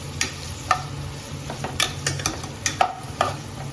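Chopped onion sizzles in a hot pan for a crab and coconut sukha, a steady frying hiss broken by several sharp scrapes and knocks of a spoon stirring against the metal, close and alone with no talk.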